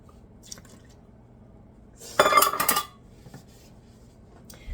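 Three quarters of a cup of water poured into a dry measuring cup while mixing hardtack dough, a single close splash and trickle lasting under a second amid a quiet kitchen, with faint clinks before and after.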